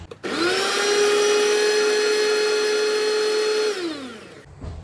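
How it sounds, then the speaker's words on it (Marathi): A mixer grinder coarsely grinds soaked, drained soybeans, its motor whining up to a steady, loud, high-pitched hum for about four seconds before winding down and stopping. "हे सोयाबीन आता मी याचं पाणी काढून मिक्सरमध्ये वाटून घेणार आहे"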